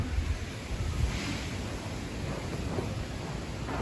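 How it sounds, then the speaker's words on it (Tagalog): Strong typhoon wind in La Union roars steadily with broadband rushing noise and low rumbling gusts, continuous and loud throughout, with no voices. "Hindi makita pero malakas na po yung hangin."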